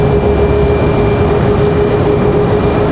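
An Airbus A319 jet airliner at Raleigh Durham airport gives off a loud, steady broadband roar that holds evenly throughout, with no voices.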